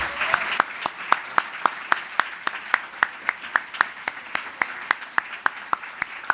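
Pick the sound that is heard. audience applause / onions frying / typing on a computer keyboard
audience applause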